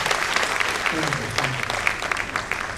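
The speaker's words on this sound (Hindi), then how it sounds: "सब तालियां बजाकर उनका स्वागत करें।" An audience at a national diabetes educators summit applauds to welcome the speaker to the stage, a steady wash of many hands clapping at moderate level, with a voice faintly audible beneath.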